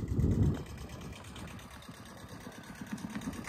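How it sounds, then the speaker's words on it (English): A tractor engine chugs at low revs with a steady rhythmic putter as it drives into the water at Brightlingsea Harbour, starting with a brief louder thump. "the tractor comes into the water"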